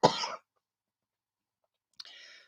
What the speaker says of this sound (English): I was hoping I was going to get through it without getting a coughing fit.